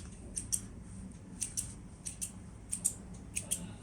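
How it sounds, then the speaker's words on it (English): Small thread snippers cut serger thread on a Babylock serger, a series of crisp, quiet paired clicks repeating about five times over low room hum. "I'm just going to snip the thread over here"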